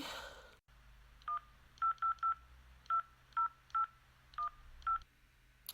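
Nine telephone keypad tones beep in an irregular sequence, each short and clear, against a quiet background hum.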